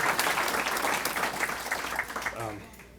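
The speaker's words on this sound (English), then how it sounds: "So can we give all of them a round of applause, all the coaches?" A crowd at a high school athletics hall of fame induction ceremony applauds coaches, steady clapping over about two and a half seconds, with a voice briefly audible as it fades.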